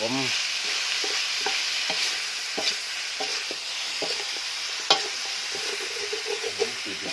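Continuous loud sizzling of rat meat stir-frying in a wok, with repeated scraping clatters of a utensil stirring throughout.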